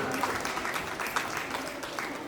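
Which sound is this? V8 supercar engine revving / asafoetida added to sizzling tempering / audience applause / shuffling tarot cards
audience applause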